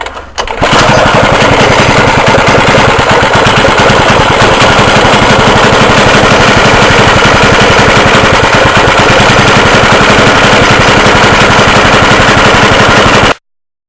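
A rebuilt high-compression Suffolk 75cc small engine runs loud and close at a rough, rapid, steady putter, then cuts off abruptly at the end.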